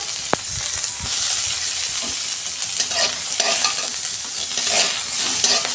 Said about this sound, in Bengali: ওই যে পেঁয়াজটা আমি ভেজে নিচ্ছি